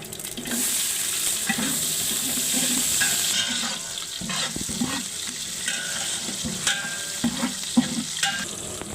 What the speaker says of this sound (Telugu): ఎండుమిర్చి కరివేపాకు ఇవన్నీ ఫ్రై అయిన తర్వాత సన్నగా తరిగి పెట్టుకున్న ఉల్లిగడ్డలు